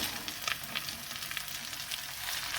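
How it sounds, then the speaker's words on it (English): Noodles seasoned with salt and black pepper frying in a pan, a steady close sizzle with faint stirring scrapes running throughout, no voices. "let me just fry it"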